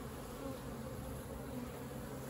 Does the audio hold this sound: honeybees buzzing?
yes